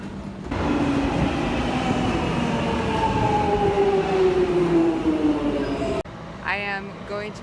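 A London Underground Jubilee line train rumbles loudly and steadily, close by, with a long squealing whine gliding downward over the roar; after six seconds the noise drops and a rising-and-falling electronic tone sounds over the continuing hum.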